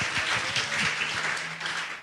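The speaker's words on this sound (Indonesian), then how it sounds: "Kasih tepuk tangan kepada Tuhan." A church congregation applauds during a sermon, sustained dense clapping that holds at an even level for a couple of seconds, with a faint tone beneath.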